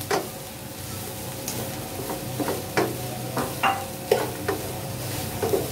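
Finely chopped cabbage and mixed vegetables stirred in a pan, a series of separate scraping and tapping strokes at an uneven pace over a faint steady background hiss, close and moderately loud, with no talking.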